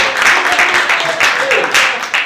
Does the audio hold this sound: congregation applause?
yes